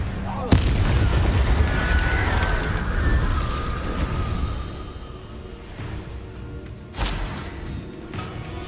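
The Incendio fire spell cast in Hogwarts Legacy, a sharp blast followed by a roaring, crackling burst of flame that fades, with a second sharp hit near the end, while a voice talks over it.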